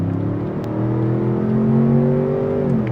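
A 2026 Ford Expedition Platinum Ultimate engine pulls hard in sport mode, a steady close droning rumble whose tone climbs gradually as it accelerates, heard from inside the cabin.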